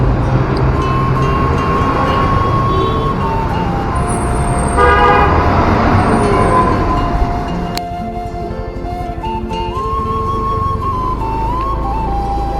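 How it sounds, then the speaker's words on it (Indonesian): Dense road traffic beneath a flyover near a toll road construction site, with trucks hauling fill soil in and out: a steady loud engine rumble and passing vehicles, with horn toots and a brief sharp bang partway through. "penampakan arus kendaraan di bawah jembatan layang agak sedikit macet karena banyak truk-truk yang keluar masuk"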